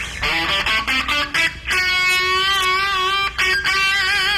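A distorted electric rock guitar plays a quick phrase of picked notes, then a long sustained vibrato note leaning on the Dorian major sixth, loud and close with no voices.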